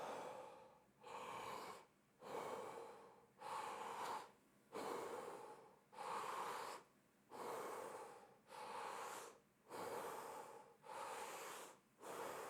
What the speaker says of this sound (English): Really full breaths.